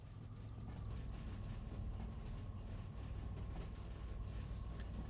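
A freight train in the railway game Derail Valley rolls along with a continuous low rumble and faint rhythmic wheel clatter, heard quietly and steadily with no talking.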